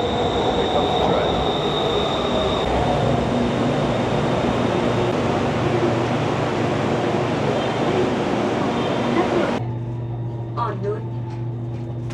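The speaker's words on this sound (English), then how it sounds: "Here comes the train." A Bangkok BTS Skytrain arrives at a busy station with loud rolling rumble, steady wheel noise and a high squealing tone as it slows, then the sound drops abruptly near the end.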